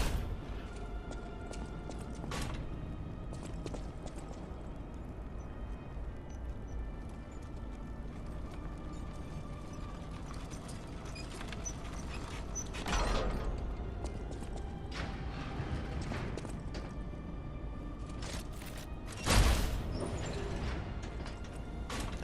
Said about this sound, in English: So now we'll have to bring the elevator back down.